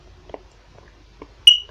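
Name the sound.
smoke alarm chirping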